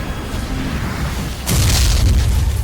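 Gunshot in the Love and Deepspace video game: after a low steady rumble, a sudden loud, close blast bursts out partway through and leaves a heavy booming tail, with no talking.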